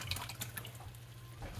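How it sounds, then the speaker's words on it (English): Chicken broth pours into a small pot in a home kitchen, a soft, steady trickle of liquid running close by for under two seconds with a faint low hum underneath. "Into my smaller pot, I'm going to add the lesser amount of chicken broth I have."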